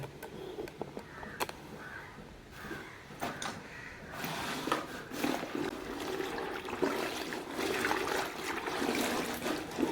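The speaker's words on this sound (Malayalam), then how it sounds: "അങ്ങനെ നമ്മൾ നാല് ബാഗുകളും നമുക്ക് ആ വെള്ളത്തിലേക്ക് ഇട്ടിട്ടതാണ്" Old school bags dropped into a tub of water and stirred, giving irregular close sloshing, splashing and trickling, with a few knocks and no talking.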